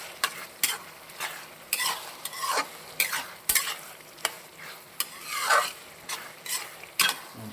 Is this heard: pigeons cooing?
no